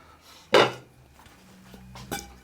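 Old-fashioned kitchenware handled in a home kitchen in Wales, a sharp clatter of pots or utensils followed by quieter knocks and a second clink, close and with no talk.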